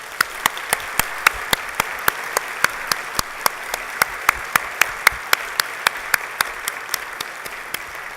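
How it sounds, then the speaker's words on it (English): Audience applause at a spring university convocation ceremony, a steady bed of many people clapping with one nearby pair of hands beating out sharp, evenly spaced claps above the rest for the whole stretch. "Please join in giving them a big round of applause."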